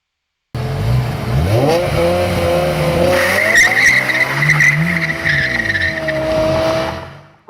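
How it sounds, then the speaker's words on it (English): A BMW E60 M5 launches hard under launch control, its engine rising in a loud, shrill howl through the revs with tyres squealing, close up and without talk. "The E60 launch control is incredible, and it sounds like an F1 car."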